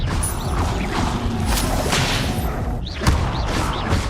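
Expelliarmus spell cast in the video game Hogwarts Legacy: a loud series of whooshing, whip-like magical bursts and swishes with impact thumps and crashes, overlapping in quick combat succession.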